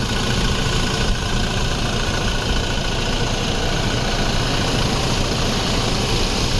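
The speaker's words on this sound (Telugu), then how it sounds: "చూడండి ఇంజన్ సౌండ్ మొత్తం, ఇంజన్ నాయిస్ చాలా వాయిస్ నీట్గా ఉంది." A 2017 Toyota Fortuner 2.8 diesel idles steadily, a continuous close engine rumble with light vibration and no pauses throughout.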